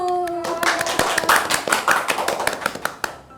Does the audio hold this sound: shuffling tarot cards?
no